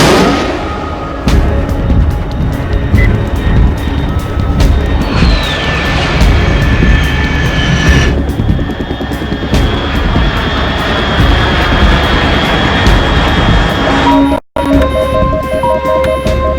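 A loud, continuous jet aircraft roar fills Metal Gear Solid 3, rumbling and rushing for the whole stretch with a brief dropout near the end and no talk.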